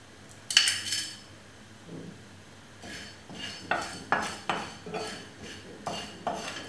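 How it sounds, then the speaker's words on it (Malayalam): Cinnamon, clove, cardamom and fennel are tipped into a kadai and stirred, a loud metallic clink at the start followed by a regular series of scraping, clanking spoon strokes against the pan, close up with no talking. "എടുത്തു വച്ചിരിക്കുന്ന പട്ട, ഗ്രാമ്പൂ, ഏലയ്ക്ക, പെരുംജീരകം കടായിലേക്കിടാം."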